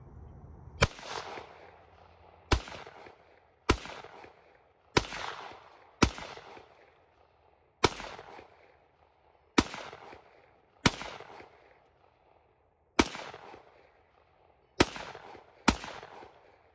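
Sharp, loud .300 Blackout rifle shots fired at pumpkins outdoors, a dozen single cracks spaced a second or two apart, each followed by a short echoing decay.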